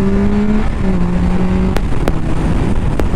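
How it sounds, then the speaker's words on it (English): Car passing on a dual carriageway: a loud, close tonal engine drone shifting in pitch as it goes by, over steady strong wind rumble, with a few sharp clicks and no talking. "there's a car coming"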